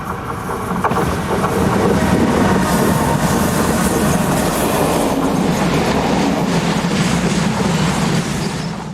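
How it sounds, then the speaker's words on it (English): A freight train hauled by two Class 1012 electric locomotives on the Brennero line rolls past nearby, loud and steady, with a continuous roar of wheels and rhythmic clatter over the rails and no voices. "Two Class 1012s work the 1214 Vorgel to Brennero freight."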